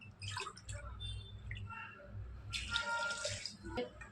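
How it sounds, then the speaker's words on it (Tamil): Water from a tumbler is poured into a pressure cooker of potato and moong dal curry, splashing close and fairly soft in two bursts with brief pauses, and no one talks over it. "2 டம்ளர் தண்ணி ஊற்றணும்."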